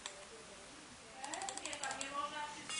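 Soft, quick clicks come in a short cluster, a computer mouse pressed several times in a row while it fails to respond in GTA San Andreas, faint against a quiet room.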